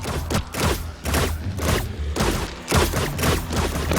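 Rapid, loud bursts of video game explosions and thuds in a dense volley, booming one after another with little pause between them.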